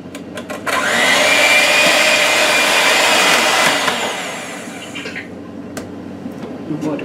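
An electric mixer whirs through ingredients in a bowl, spinning up to a loud steady motor drone for a few seconds, then winding down amid faint clicks and handling noise.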